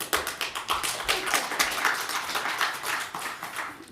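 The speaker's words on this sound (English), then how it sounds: "Thank you for the applause." Scattered hand claps from a small audience at a workshop, a light irregular patter of applause at moderate distance.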